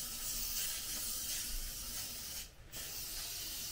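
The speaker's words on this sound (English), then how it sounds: "Did you spray this box? I think so, but can you spray it again?" Aerosol spray hissing steadily onto a storage box during a storage unit clean-out, close and continuous with one short pause before the spraying resumes.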